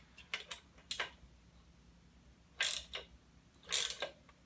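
Hand tool tightening a part on a 1973 Suzuki TC125 motorcycle, with a few quick ratcheting clicks early on, then two louder bursts of metallic ratcheting spaced apart, close up with no talking.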